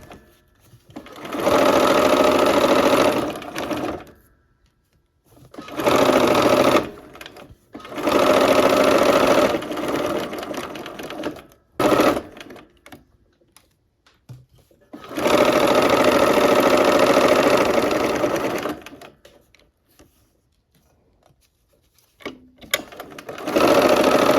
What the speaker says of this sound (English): All right, let's go ahead and sew.